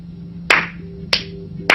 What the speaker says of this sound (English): you kind of hear that. 3 or 4 people's hands clapping